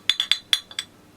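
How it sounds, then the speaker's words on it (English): Glass bottles clanked together for music, six quick bright clinks in an uneven rhythm, close and ringing, with no talking. "you do have to be careful with clanking glass bottles together"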